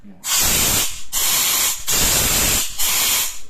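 Loud bursts of rushing, hissing air from an SSG Calypso scuba regulator purging at 9 bar intermediate pressure, four long blasts with brief pauses between, close and forceful.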